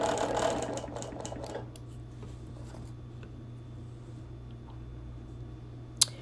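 A sewing machine stitches straight-line channel quilting with neon thread. A quick, even mechanical whirring runs close and loud at first, then drops to a quiet hum, with one sharp click near the end.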